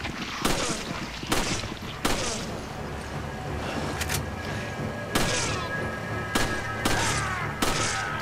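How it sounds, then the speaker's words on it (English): Pistol and shotgun shots in Resident Evil 5, sharp loud blasts going off one at a time at irregular intervals, around ten reports over the span, with game ambience and movement noise between them. "I just take my pistol out and blow him up"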